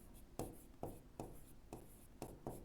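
Pen strokes scratch steadily on paper as an answer is written down, close and quiet, in rhythmic bursts about every half second with no talk over them.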